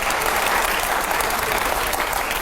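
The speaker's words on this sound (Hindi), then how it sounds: "जोरदार तालियां हो जाए जरा" Loud, sustained audience applause at a live question-and-answer event, a thick continuous roar of many hands clapping throughout.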